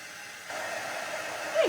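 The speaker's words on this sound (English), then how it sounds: "So let me hit this with the dryer." A handheld dryer blows air across a freshly made craft mug hugger, a steady whooshing hum that kicks in partway through and swells louder at the end.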